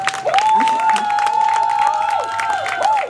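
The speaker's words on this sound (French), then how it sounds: "Est-ce qu'on peut pas l'applaudir à nouveau?" A crowd at the inauguration of the Clermat salon's new location in Saint-Michel applauds again, with loud, continuous clapping and cheering mixed with a sustained tonal whine or feedback-like sound running through.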